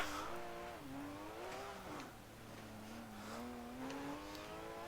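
A Porsche engine in a racing game revs and wavers in pitch, rising and dipping through shifts at moderate loudness, with faint squeaks and no speech.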